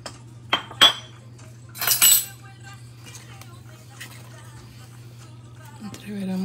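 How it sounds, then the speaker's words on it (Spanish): A spoon clinks against a bowl a few times while yeast and sugar are stirred into picarones dough, followed by a faint scraping and quiet background hum. "Entreveramos bien, mezclamos."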